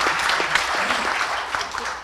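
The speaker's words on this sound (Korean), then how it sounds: "큰 박수 부탁드립니다." Audience applause at a Korea University medical school faculty forum with the university president, steady dense clapping from a crowd for about two seconds with no talk over it.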